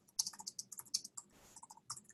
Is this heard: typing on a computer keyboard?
yes